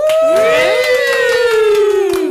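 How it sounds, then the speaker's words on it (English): A loud, drawn-out whoop slides downward in pitch, with scattered claps and a little crowd noise around it. "give Jonathan a big round of applause"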